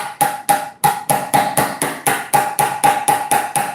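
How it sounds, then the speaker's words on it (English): A chisel struck repeatedly against a hard surface, about fourteen sharp, evenly spaced ringing knocks in quick succession, close and loud with no talk. "We just need to keep chipping away at it"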